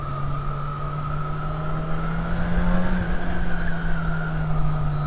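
A Kawasaki Ninja 1100SX sport motorcycle fitted with an upgraded aftermarket exhaust rides along the road in second gear, giving a loud, steady engine drone with a slight rise in pitch, with no talk.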